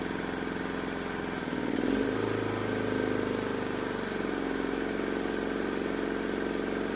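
Westinghouse iPro4200 inverter generator running with an air conditioner compressor load, a steady droning engine hum that deepens and swells as the compressor kicks in, continuous and fairly close throughout.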